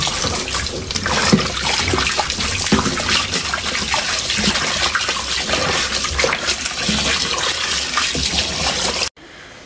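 Tap water runs steadily into a sink while food is washed, a continuous close splashing hiss with small clatters and surges, cutting off abruptly at the end.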